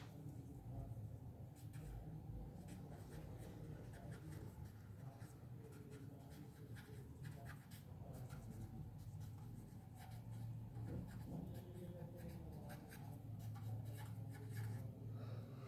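Chalk or marker scratches continuously across a classroom board during a biology lesson, a faint, steady scraping and tapping texture under a low room hum.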